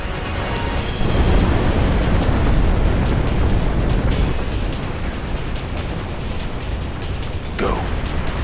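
Building blowing up in Final Fantasy X, a sustained roaring blast with crackling debris that swells after the first second and rumbles on loudly throughout.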